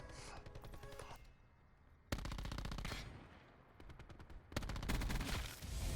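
Submachine gun fire in the Call of Duty Blackout video game, three rapid automatic bursts separated by short pauses, loud and close, with game sound effects between volleys and no talking.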